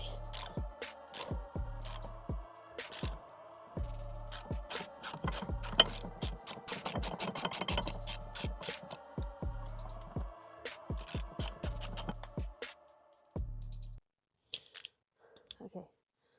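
Repeated ratchet clicking while brake bolts are worked loose on a Ford Fiesta ST mk7.5, bursts of close mechanical clatter in uneven runs with low thumps, stopping near the end for a few faint clicks.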